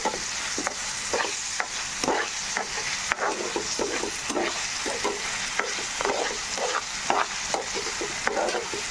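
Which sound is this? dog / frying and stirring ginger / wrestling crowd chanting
frying and stirring ginger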